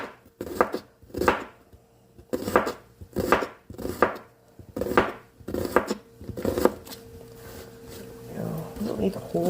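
Half an onion chopped with a knife on a board while making a cast iron tortilla bake, a series of close, firm chops in quick bursts of two or three with short pauses, fading into quieter handling at the end.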